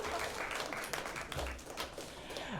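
A comedy club crowd at a live show claps in a scattered, moderate burst, while voices and a little chatter come through underneath.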